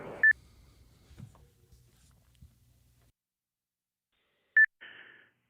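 Short electronic beeps heard over a ham radio live stream: a pair of quick tones at the start and another pair near the end, separated by faint handling noise and silence.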